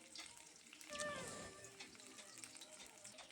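Sliced bitter gourd sizzles in hot mustard oil with bay leaves and five-spice seeds, a faint, soft crackle that swells briefly and then settles into a low, steady hiss.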